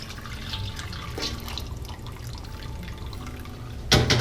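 Whey from goat cheese drips and trickles out of a cheesecloth bundle in a homemade cheese press, a soft watery patter with a sharper splash near the end.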